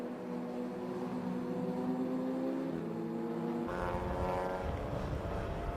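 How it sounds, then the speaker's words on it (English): Ford Mustang notchback race car lapping Silverstone GP during a six-hour relay race, a steady engine drone rising in pitch and then shifting to a harsher, brighter tone as it passes, no voices over it. "That's Mustang going around just ahead of it."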